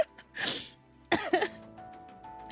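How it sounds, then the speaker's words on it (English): A single sneeze bursts out close and sharp, followed by a second throat-clearing burst, then quiet with faint background tones. "need to sneeze"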